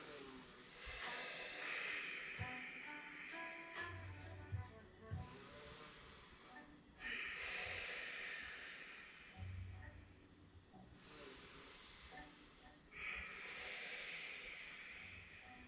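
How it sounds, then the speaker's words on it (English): Five slow oceanic ujjayi breaths during a vinyasa yoga session, each a soft airy hiss through the throat lasting a few seconds, separated by quiet pauses, close and faint. "so you get this real oceanic breath, for example. And we'll take 5 of these clearing breaths"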